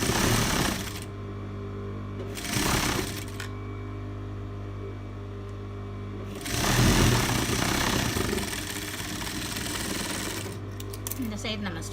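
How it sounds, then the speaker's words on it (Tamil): Sewing machine stitching the seam of an off-shoulder dress, running in loud close bursts of rapid mechanical chatter separated by a steady lower hum, with short stops between runs. "அந்த சீம் அலவன்ஸ் வச்சு மேட்ச் பண்ணி நம்ம ஸ்டிச் பண்ணிடலாம்"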